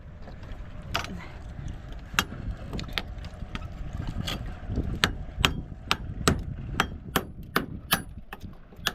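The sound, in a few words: hammering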